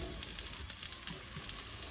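Small shallots sauté in a pan for fish molee, giving a steady, soft hiss of frying oil that continues evenly throughout the short moment, with no voices.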